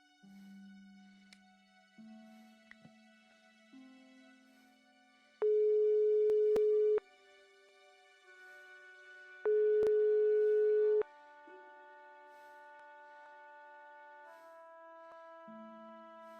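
Phone busy signal from the video game Broken Sword 5: The Serpent's Curse, a repeating electronic tone interrupted by two louder sustained beeps and shifting pitches, heard clearly with no talking.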